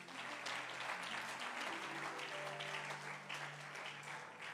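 A congregation at a Sunday thanksgiving church service breaks into sustained applause, a broad, even roar of clapping with some voices and a faint tonal hum beneath it.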